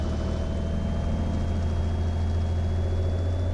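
Small plane's piston engine warming up on a winter day before taxi, a steady close low drone with constant rumble and no talk.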